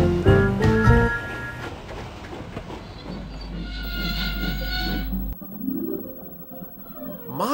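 Animated steam engine hauling a train of heavy stone trucks into a harbour, loud rumbling and whooshing with a short whistle blast at the start and clattering wagons, fading near the end.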